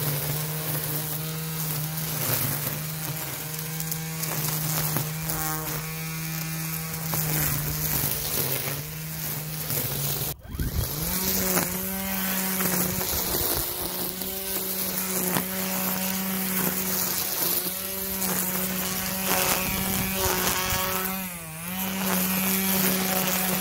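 A Greenworks 60V 16-inch cordless string trimmer whines steadily at low speed and then, after a brief dip, runs at a higher, louder pitch, with a continuous buzzing drone and no talk.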